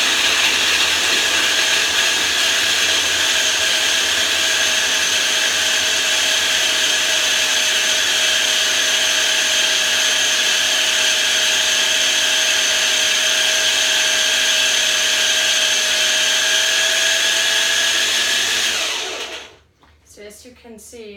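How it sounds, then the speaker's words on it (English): A cheap small kitchen blender whirs loudly and steadily for nearly twenty seconds with a high motor whine, then cuts off abruptly, leaving a few brief clinks. "I purchased a new little blender."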